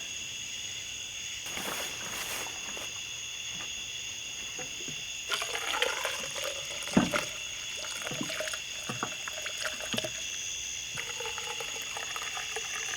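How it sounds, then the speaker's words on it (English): Diesel poured into the valve cover of an old Dodge Monaco engine trickles and gurgles in short, uneven bursts, with a steady high insect-like whine running underneath. "try and pour into the valve cover now"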